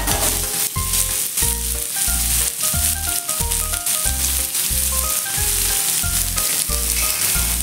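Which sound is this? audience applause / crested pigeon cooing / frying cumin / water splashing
frying cumin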